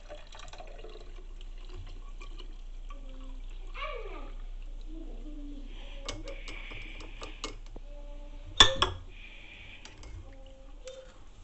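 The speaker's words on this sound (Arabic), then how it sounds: "دابا غادي ناخذ كاس وصفايه ونصفيو بكل بساطه" A honey, clove and lemon drink is strained into a glass, producing a quiet trickle of liquid with light clinks and a brief louder clatter near the end.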